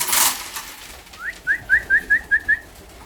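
Female pigeons coo as they come into a loft compartment: a burst of wing or rustling noise opens, then six short, evenly spaced coos follow in a quick rhythmic series, close and clear.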